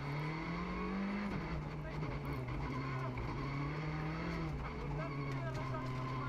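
A rally car drives hard on a stage at the Rally van Haspengouw, round 1 of the 2020 Belgian Rally Championship, its engine droning steadily and shifting pitch around the second mark, with commentary talk running over it.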